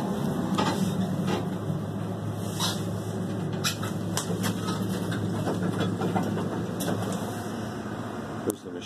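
A KONE elevator's machine room machinery at Copernicus Hall, Central Connecticut State University, runs with a steady low hum and drone, with faint clicks and someone talking over it.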